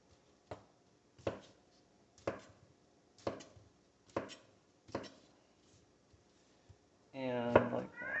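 A knife chops potatoes for home fries on a cutting board, giving about seven evenly spaced, moderately loud thuds, followed by a brief stretch of talking.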